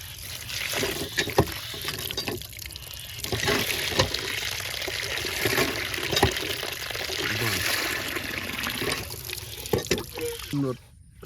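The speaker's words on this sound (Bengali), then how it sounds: "আমরা সুন্দর মতন পরিষ্কার পানি দিয়ে মুরগিগুলো ধুয়ে নেব।" Raw chicken pieces are washed by hand in clean water while cooking khichuri and chicken curry, with continuous splashing, pouring and trickling close by. A voice talks over the water.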